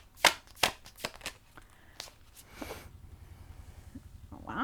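Tarot cards are shuffled and drawn at close range, with a few sharp snaps and slaps of cards followed by a softer riffling shuffle.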